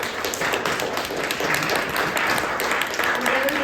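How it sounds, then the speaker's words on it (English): Audience clapping for a panel of experts at an evening civic event on the state budget process, a continuous mid-level patter of many hands, steady and moderately distant. "Can we just give a quick round of applause for our wonderful experts tonight?"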